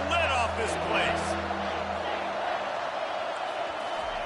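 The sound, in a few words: stadium crowd roaring at a football game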